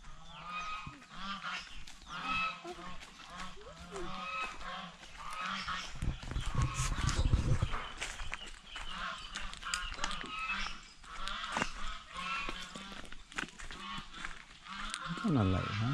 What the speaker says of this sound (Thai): นู่นไก่รอเราอยู